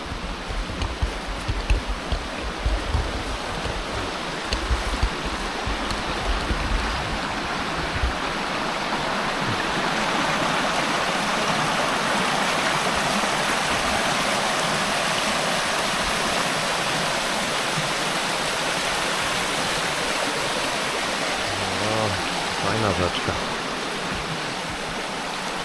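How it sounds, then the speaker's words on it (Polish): A small stream in Wales joins a main river with a constant close rush of flowing water, steady and loud for the whole stretch, with a low rumble early on and no voices. "Tutaj już taki jest mini strumyczek, który łączy się z główną rzeką."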